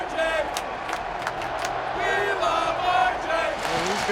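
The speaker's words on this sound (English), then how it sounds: "The crowd's acknowledging him" Buffalo Sabres hockey arena crowd cheering and whooping for broadcaster Rick Jeanneret, a broad, sustained roar of many voices with someone talking over it.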